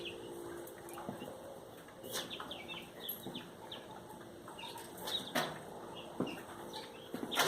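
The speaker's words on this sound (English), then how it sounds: "We have quail in #1, and we're brooding baby chickens" Quail and young chicks in a wooden hutch give soft chirps and clucks, faint and scattered over a quiet background, with occasional brief rustles and flutters.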